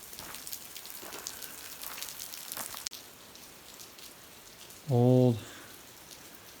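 A light drizzle falls on rocks in the Gila outdoors, making a steady, soft, close pattering. A voice briefly speaks over it.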